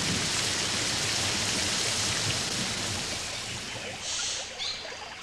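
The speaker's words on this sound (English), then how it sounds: "can rain as much as 2 inches in an hour." Heavy tropical rain in the Pantanal wetlands, a dense unbroken hiss of downpour, close and loud, steady throughout with a slight lull near the end.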